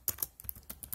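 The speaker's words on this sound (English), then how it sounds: "So let's type it in." A computer keyboard is typed on in a quick burst of about eight crisp, close keystrokes in an irregular rhythm.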